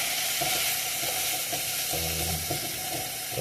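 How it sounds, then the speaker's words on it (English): Ground beef browning in a pan, a steady close sizzle and crackle of frying meat with faint stirring scrapes, continuous throughout without any voices. "I want to do ground beef. And cook him up. Brown him and all that good stuff."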